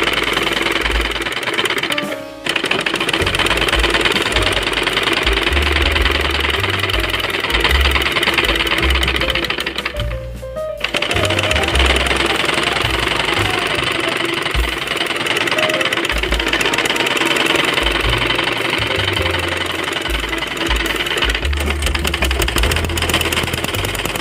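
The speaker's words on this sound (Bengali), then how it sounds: "এই যে আমরা সোজা দিকে এইভাবে কাপড়টা রেখে সেলাই দিয়ে নেব।" Loud, rapid, continuous mechanical chatter of a sewing machine stitching fabric for a child's umbrella frock, running nearly nonstop with two brief pauses.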